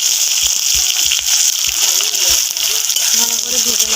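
Chopped onion frying in oil with whole cardamom and cumin, a loud close sizzle with stirring knocks, and a voice talking over it.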